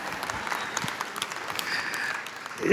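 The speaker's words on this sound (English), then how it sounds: "Sympathy applause is almost as hurtful as a boo." A small audience gives light, scattered sympathy applause, thin steady clapping across the whole stretch that swells slightly just before the end.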